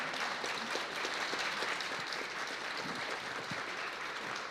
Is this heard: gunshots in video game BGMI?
no